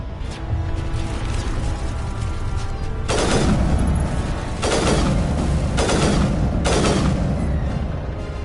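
Gun turrets firing at an enemy ship in the game Mass Effect Legendary Edition, several heavy booming volleys and bursts of gunfire over a low rumbling battle backdrop, loud and repeated every second or so.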